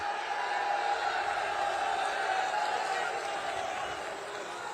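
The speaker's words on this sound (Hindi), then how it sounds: "जोर से ताली बजाइए नीरज त्रिपाठी के लिए" A large rally crowd in Prayagraj cheers and claps for a candidate, a dense, steady roar of applause and voices that holds at an even level throughout.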